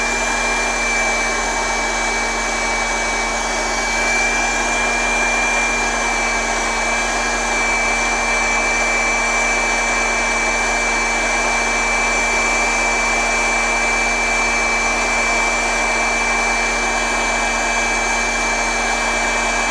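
Hot air rework station blowing a steady, loud airflow onto a chip's pins, a constant fan-like whoosh with a faint whining tone running unchanged throughout, no talking.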